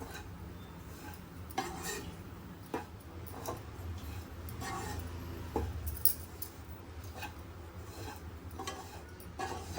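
Dry coconut being roasted and stirred in a kadhai for dates and coconut ladoo, with a spatula scraping and ticking against the metal pan in a steady, quiet rhythm of irregular clinks.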